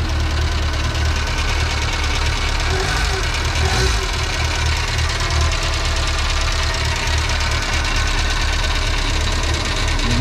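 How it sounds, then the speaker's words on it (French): A 1991 Renault 4 GTL engine idles just after starting, a loud steady knocking rumble close by that runs unbroken throughout, with no talk. "Voici l'auto. Voilà, ça démarre."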